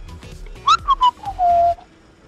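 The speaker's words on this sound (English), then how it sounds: "maybe the person that's whistling?" A person whistles a short, clear, loud tune nearby: a few quick rising and falling notes, then one longer held note, with no other sound.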